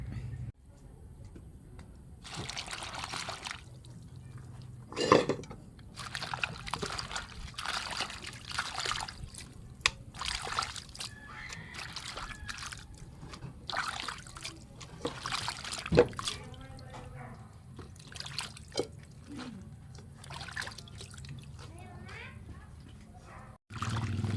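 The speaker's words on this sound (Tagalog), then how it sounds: "maghugas tayo ng gulay. Hugasan na natin." Vegetables are rinsed by hand in water while cooking nilaga na pata, giving intermittent trickling, splashing and sloshing bursts close up, with people talking at times between them.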